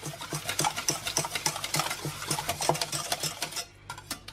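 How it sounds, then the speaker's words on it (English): Lime juice being whisked into a lime curd mixture, a rapid rhythmic clatter of a whisk against the bowl running steadily for about four seconds, close and fairly loud, then stopping. "I'm just going to squeeze over the juice of both of the limes. Okay, and I'll just whisk that in."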